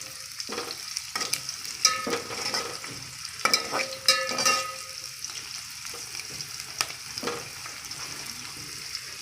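Onion and garlic fry in a pan for a masala rice dish, giving a steady close sizzle broken by repeated clattering stirs and scrapes, with no talk over it.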